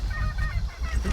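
Honking, clucking fowl calls from a chicken or goose in the video game Shadow of the Tomb Raider, repeating steadily across a short stretch over a low, busy background.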